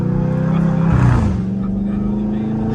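A catless Dodge Scat Pack's exhaust holds a steady, deep rumbling drone close by, swelling briefly in a rev partway through before settling back to an even idle-like growl.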